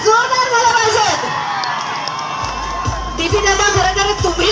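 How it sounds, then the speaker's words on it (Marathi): Crowd cheering and shouting at an inauguration ceremony, a loud, dense mass of voices sustained throughout with swelling whoops near the end; applause is not clearly distinct within the roar. "मला वाटतं टाळ्या जरा जोरदार झाल्या पाहिजेत"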